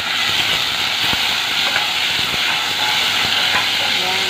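Onion and tomato sautéing together in a very hot pot for sinigang, a steady loud sizzle and hiss with scattered stirring clicks and scrapes, no voices.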